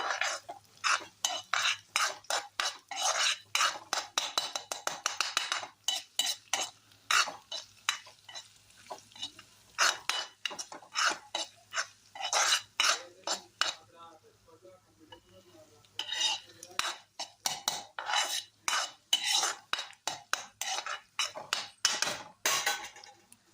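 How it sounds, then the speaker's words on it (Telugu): A spoon stirring ginger paste mixture in a pan for egg rice: rapid, repeated metallic scrapes and clinks over a light sizzle, loud and close, with brief pauses and no talking. "దీంట్లోనే ఒక 2 నిమిషాల పాటు మొత్తం కలిసేలా కలుపుకోవాలండి"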